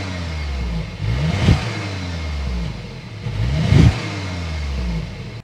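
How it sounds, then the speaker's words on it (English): A 2026 Audi A3 engine revving twice in two short throttle blips, with a steady idle between them and a clear exhaust note close by. "start it up so you can hear the exhaust note"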